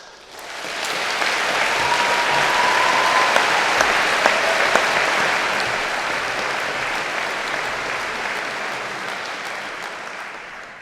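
A large audience at a university graduation ceremony breaks into sustained applause, a thick, even roar of many hands clapping that swells and holds for the whole stretch before slowly easing.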